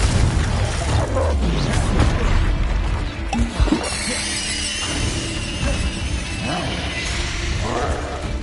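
A Confringo blasting spell explosion during Hogwarts Legacy video game combat, loud booms and crashes amid a dense mix of spell whooshes and impacts.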